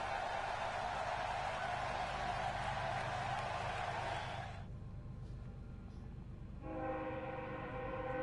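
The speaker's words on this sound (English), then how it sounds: "That's a loud freaking train today, man." A loud train rumbles past at close range, its broad roar filling the clip, then dropping away before a steady train horn sounds near the end.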